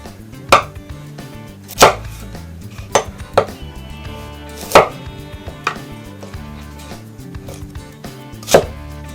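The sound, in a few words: knife chopping carrots into similar-sized pieces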